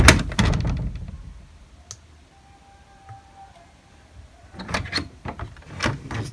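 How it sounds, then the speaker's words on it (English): An original old wooden door in a house is opened and closed, producing knocks and thuds at each end. A faint creak sounds in the quiet middle stretch, and bursts of handling noise are close by. "These doors, just the way the noise they make when you're opening and closing them."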